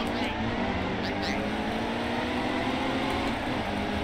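Engines of a field of NASCAR Cup cars roar together at the start of a race at Atlanta in NASCAR Heat 2, a dense steady drone with faint speech underneath.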